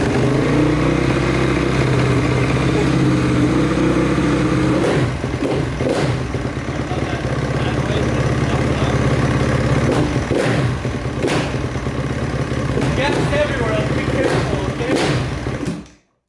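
A Honda CRF250R dirt bike engine runs after a fuel pump repair, giving a loud, close, steady rumble with irregular thumps and clatter layered on top. Voices talk over it before the sound cuts off abruptly at the end.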